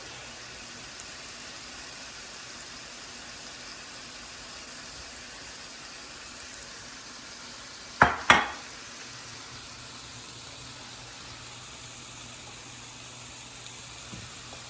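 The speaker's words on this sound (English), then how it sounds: "Go ahead in and add in your shrimp." Seasoned shrimp, coated in Cajun spice, salt, pepper and parsley, sizzle in a hot pan with a steady, even hiss and a couple of sharp clatters midway. The hiss is fairly quiet and no one speaks.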